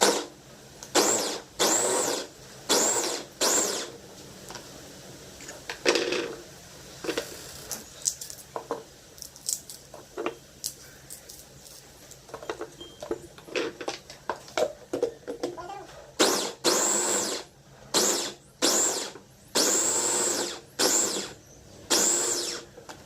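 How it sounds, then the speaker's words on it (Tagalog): An electric mixer blends lemongrass for a homemade chili-garlic sauce, sounding in loud repeated bursts of whirring, several short pulses at first and again near the end, with a stretch of talk in between. "Dito ko na siya i-mix sa mixer para ma-even yung pag-mix niya."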